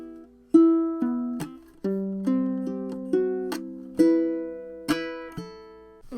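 Ukulele fingerstyle riff from a tutorial on a song, plucked notes ringing in a steady rhythm with several sharp percussive chucks and wrist thumps punctuating the phrase, played close and clear with no talking.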